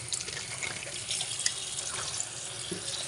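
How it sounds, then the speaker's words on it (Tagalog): Tap water runs steadily into a kitchen sink while vegetables are washed, a continuous faint hiss and splash with small shifting gurgles as the stream hits the produce. "Para makita po ninyo kung paano ako maghugas ng mga gulay"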